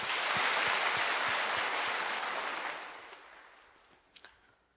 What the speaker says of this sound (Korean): 다시 한번 하나님께 감사의 박수 올리겠습니다